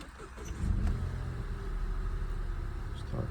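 A 2020-or-later Nissan Juke's engine catches and settles into a steady, moderately quiet idle hum, heard from inside the car with some faint clunks around the start.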